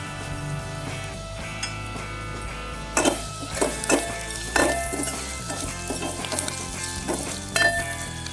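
Garlic paste sizzling and frying in a hot pan for buttermilk rasam, a steady crackling hiss with sharper bursts of spattering and a few clinks of a spoon against the pan partway through.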